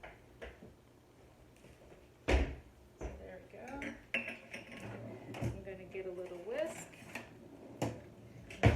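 Raspberry Jell-O powder and sugar are whisked slowly in a bowl, making irregular close clinks and scrapes of the whisk against the bowl while a person talks over them.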